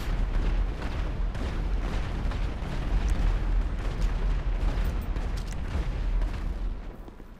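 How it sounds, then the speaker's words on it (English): Continuous dense rumbling blasts and crackling booms from explosions in GTA 5 Online, loud and sustained without pause. "Is this stuff just spontaneously exploding?"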